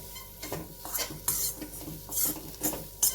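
Vegetables and ginger sautéing in a pan with butter and millet flour, carrying repeated spoon scrapes and clinks against the metal in an irregular rhythm over a faint background sizzle, close by with no talking.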